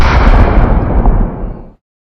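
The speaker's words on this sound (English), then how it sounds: "the fireworks didn't disappoint this year." Homemade fireworks burst in one loud, close blast whose rumbling roar trails off over about a second and a half before cutting to silence, with no voices.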